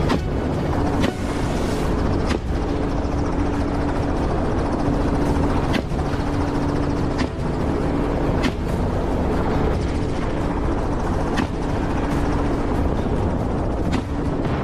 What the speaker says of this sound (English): The chopper dipped low, giving us a perfect firing angle.